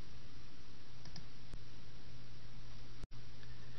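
Computer mouse clicks in an office software tutorial: a few sharp isolated clicks over a steady background hiss, with a pronounced one near the end.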